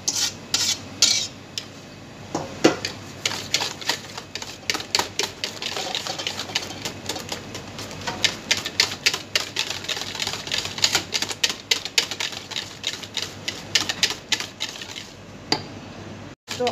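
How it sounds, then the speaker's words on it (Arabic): A whisk or fork clicks rapidly and continuously against a bowl as eggs are beaten into melted chocolate and butter with sugar for brownies, a dense, close, steady tapping rhythm with no talking. "نقربو مزيان حتى كينسجم البيض مع الشوكولاط ديالنا مزيان"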